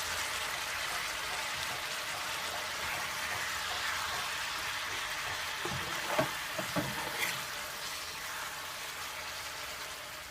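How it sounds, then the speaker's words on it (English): Ackee and chicken stirred gently with a spoon in a pot for Jamaican cooking, a steady soft sizzle with a few light spoon scrapes and clinks near the middle, quiet and without talk. "Then just take my spoon and just turn it. Just take your time so the ackee doesn't mash out."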